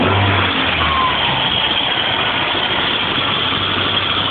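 A Dodge Ram 50 engine with multiple fuel injection idles steadily just after start-up, a loud continuous close-up rumble with a slight rev near the start, no voices.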